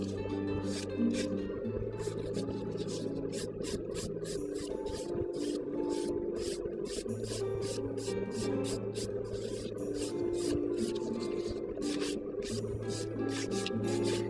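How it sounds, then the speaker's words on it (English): Acrylic gel nails being filed, a steady rapid rasping scrape repeating in quick strokes over a continuous background hum. "So we're back to filing"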